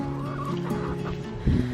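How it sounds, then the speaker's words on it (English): A rooster on a snowy spring homestead clucking close by, a short run of throaty, warbling clucks that swell louder near the end. "Why are you still following me? You weird rooster."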